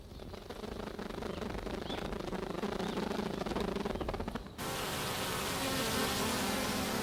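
Honeybees swarm inside a hive colony in a dark tree hollow, making a dense, steady buzzing hum that suddenly shifts to a brighter, more even drone partway through.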